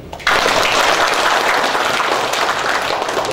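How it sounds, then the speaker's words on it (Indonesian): A university audience at a formal signing ceremony bursts into sudden, dense applause that holds steady and loud. "Tepuk tangan."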